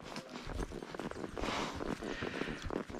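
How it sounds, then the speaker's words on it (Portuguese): Horse hooves clip-clop in a steady, uneven rhythm at close range, with a faint rustle of movement and no talking. "Estamos andando de cavalo, né?"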